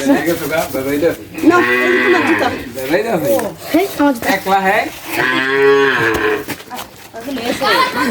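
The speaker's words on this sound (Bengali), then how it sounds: "দেখো ওই গরু পাগল হয়ে গেছে" A cow moos repeatedly in long, loud, drawn-out calls nearby, with voices talking around and between the lows.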